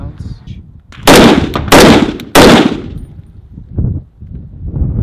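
Three loud, close rifle shots from a Smith & Wesson M&P10 firing ZQI ammunition, spaced roughly half a second apart, each with a sharp crack and brief ringing tail, with quieter outdoor handling noise around them.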